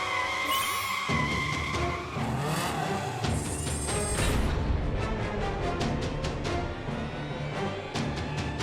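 An animated race car is driven very fast and skids: a loud, continuous engine roar with whining tire squeal that sweeps in pitch, followed by rapid repeated bursts of rough engine noise, with no talk.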